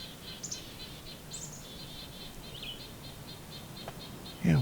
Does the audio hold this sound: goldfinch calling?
yes